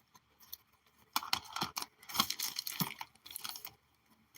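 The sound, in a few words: cutting paper for a junk journal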